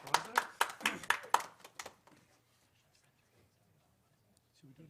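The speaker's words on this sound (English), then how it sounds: "A little clap for ISO." A small audience claps together for about two seconds in a room at a photography awards session, bright and close, then the applause stops abruptly and leaves near silence.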